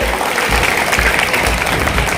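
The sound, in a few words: audience applauding at school award ceremony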